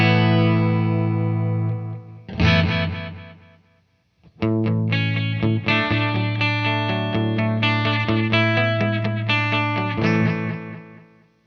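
Electric guitar through a delay pedal with modulation switched off, a sustained chord fading, then strummed notes with repeating echoes trailing behind, loud and alone.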